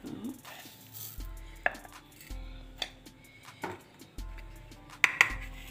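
A spoon mixes khurchan, milk-cream scrapings, with sugar in a bowl, giving a run of sharp taps and clinks against the bowl at an irregular, steady pace, close and fairly quiet.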